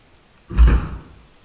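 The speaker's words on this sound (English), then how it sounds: "I remember hearing a door slam." A single door slam, one sharp heavy thud up close that rings out briefly into quiet.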